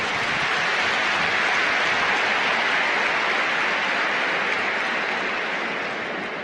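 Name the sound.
audience applause at Rwandan presidential inauguration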